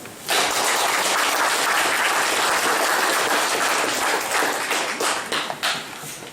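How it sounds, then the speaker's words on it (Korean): A hall audience at a Korean public hearing on a bill to establish a foundation applauds a presenting professor, giving broad, steady clapping from many people that holds for several seconds and then thins out toward the end. "다시 한번 깊은 박수 말씀드리겠습니다"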